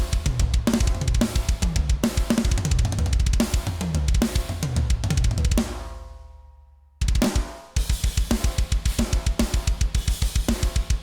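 Full drum kit processed through a heavily compressed mix preset in the Modern & Massive 2 plugin, with punchy kicks and snares in a steady groove, a brief dropout and ringing tail midway before the beat returns loud and dense.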